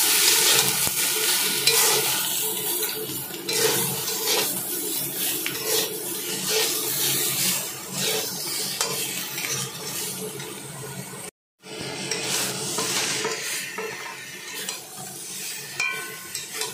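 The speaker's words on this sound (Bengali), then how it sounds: "পটলগুলো ভাজা হয়েছে।" Pointed gourd fries and is stirred in a pan, giving a steady sizzle broken by scraping and clattering utensil strokes, close and moderately loud, with a brief dropout near the end.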